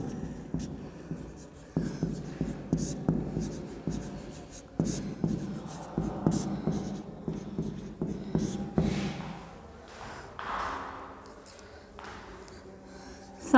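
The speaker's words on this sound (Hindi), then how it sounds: "मांग वक्र का ढाल लिख देती हूँ, इम्पॉर्टेंट है" Chalk or marker writing on a classroom board during an economics lesson, a run of close, dry tapping strokes and scratches in bursts, with quieter pauses and light room noise between them.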